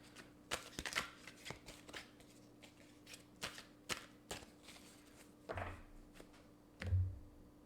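Cards shuffled and drawn for a love-life card reading, crisp riffles and flicks in short bursts with a couple of soft thumps near the end, fairly close and quiet.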